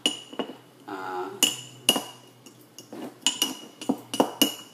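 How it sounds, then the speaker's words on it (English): Baking soda being stirred into coconut oil for homemade toothpaste: a spoon clinks and scrapes against a bowl in irregular taps and scrapes, close and fairly quiet, with no talking. "Mixing the baking soda into the coconut oil"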